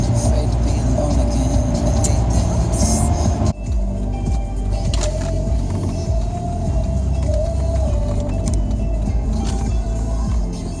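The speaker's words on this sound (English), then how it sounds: "I just took an exit and we're driving around" Car driving around town after taking a highway exit in Sturgis, with a steady low engine and road rumble throughout and a brief drop in level partway through, under faint background sound.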